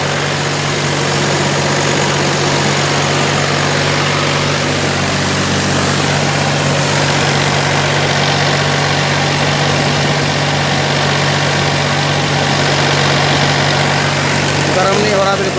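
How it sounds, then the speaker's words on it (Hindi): A Mahindra 265 DI three-cylinder tractor runs a thresher, its engine a loud, steady, throbbing drone with constant mechanical rattle and whir that continues unbroken throughout. "ये देखिए ट्रैक्टर कितना बढ़िया काम कर रहा है"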